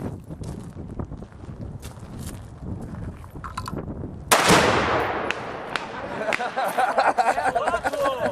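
A Rock River Arms AR-15 rifle fires at a Tannerite target outdoors, with several sharp reports and a louder blast partway through, followed by rumbling noise and faint voices.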